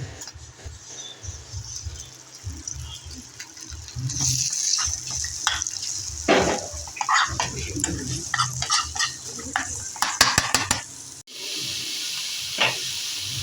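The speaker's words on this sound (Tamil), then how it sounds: "இப்போ சிக்கன் தனியாக வதக்கலாம்." Minced chicken sautés alone in a hot pan, a continuous sizzle broken by scraping stir strokes and the clicks of a utensil against the metal.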